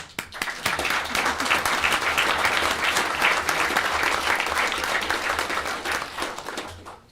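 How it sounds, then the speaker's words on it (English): At a borough mayor and council meeting, a room full of people breaks into sustained, loud applause that holds steady for several seconds before tapering off. "I just want to clap again."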